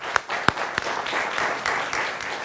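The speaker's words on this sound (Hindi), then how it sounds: "आप दोनों के लिए जोरदार तालियां" Studio audience applause on a Hindi political debate show, a few sharp isolated claps at the start giving way to a brief, moderate patter of clapping.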